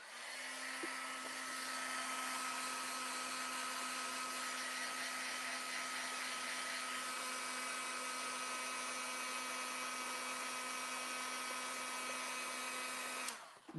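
A heat tool blows steadily over embossing powder on a craft project, a constant close whirring hiss with a fixed motor whine that runs unbroken for about thirteen seconds before cutting off.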